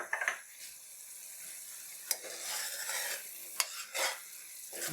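Tomato masala with green chillies frying in a pan for chole, a quiet hissing sizzle broken by a few sharp spoon scrapes and clinks against the pan, with no talking.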